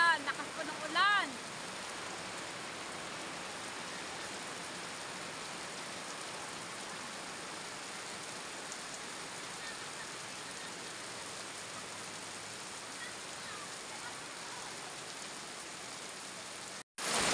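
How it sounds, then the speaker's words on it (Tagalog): Heavy rain pours down outdoors at late afternoon in the Philippines, a dense, steady hiss of drops hitting surfaces that runs unbroken throughout, loud and close, with a brief voice at the start. "Umuulan na, umuulan na"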